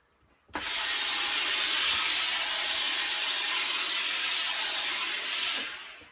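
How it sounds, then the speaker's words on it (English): A steamer blasts steam under the brim of a Borsalino trilby felt hat. The loud, steady hiss starts abruptly after a brief pause, holds for about five seconds, then cuts off. "So I'm going to put a bit of steam underneath."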